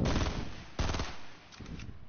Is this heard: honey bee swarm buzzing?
no